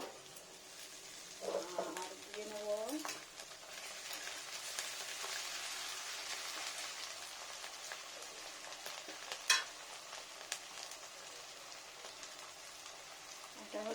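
Ginger paste drops into a hot pan already holding onion paste for a fish-head and pumpkin curry, giving a steady hiss of frying with a brief wet stirring scrape near the start.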